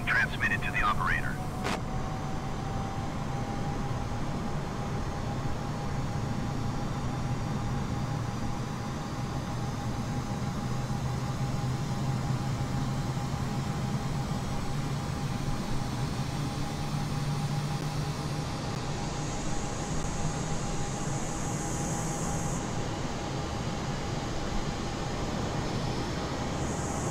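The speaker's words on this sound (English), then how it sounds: "requesting pushback tug to steer the aircraft to the left" Airbus A320neo at Heathrow being pushed back by a tug in a flight simulator, a steady low engine and air hum droning continuously with a faint whine, under radio-style talk.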